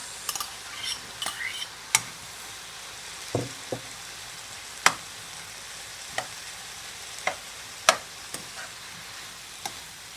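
Eggs for Guyanese-style prawn fried rice sizzle softly in a pan, with a spatula scraping and clicking against the metal at irregular intervals.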